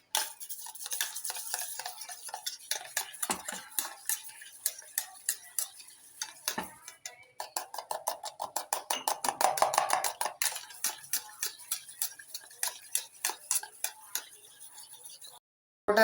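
Eggs beaten with salt in a bowl: fast, rhythmic clinking of a utensil against the bowl, close and steady, with a brief pause midway before the beating resumes.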